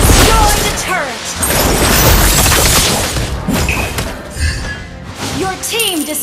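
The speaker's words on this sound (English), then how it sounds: "Your team destroyed a turret!" Turret being destroyed in a MOBA match: loud booming crashes and shattering impacts at the start, then further thuds and swooshing effects amid busy battle sounds.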